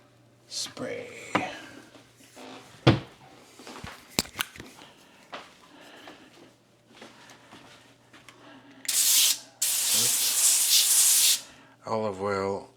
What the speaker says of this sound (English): Olive oil spray is recommended.